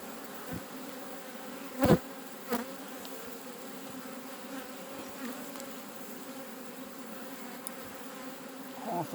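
Honey bees buzz continuously in an apiary after swarming, a steady hum of many insects around hawthorn, with a few louder close fly-bys passing the microphone.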